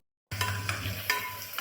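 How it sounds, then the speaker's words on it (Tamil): Chopped tomato fries in a pan for chicken white kurma, starting abruptly with a close, crackling sizzle broken by a few bursts of stirring scrapes. "ஒரு தக்காளி போட்டு நல்லா வதக்கியாச்சு"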